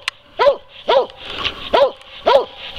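A hunting dog barks steadily at squirrels up a tree in the woods. Four loud, close barks come at an even pace, with a faint yip and a low background hiss between them.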